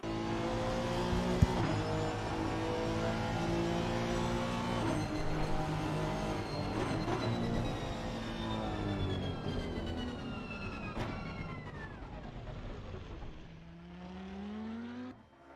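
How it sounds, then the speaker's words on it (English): A GT3 race car circles the Circuit of the Americas, its engine howling through sustained high revs with rising and falling pitch sweeps through gear changes and passes, loud and close before fading down near the end, with no talk. "Only engine sound."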